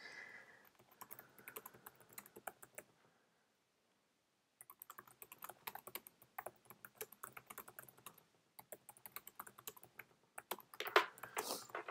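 Light typing on a computer keyboard, quick quiet clicks coming in bursts with a short pause partway through and a louder flurry of keystrokes near the end.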